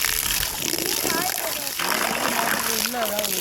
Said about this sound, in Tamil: இப்போ இது ரெண்டையும் நல்லா வாஷ் பண்ணி எடுத்துக்கலாம்